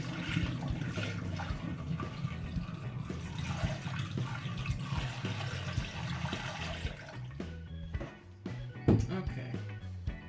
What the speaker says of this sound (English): Then we're going to take the wort